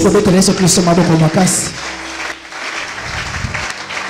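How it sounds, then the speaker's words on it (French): A congregation at a French-language Christian worship service cheers and applauds for Jesus Christ, a broad roar of clapping and shouting that carries on steadily after a voice rings out at the start. "Est-ce que tu vas acclamer pour Jésus-Christ?"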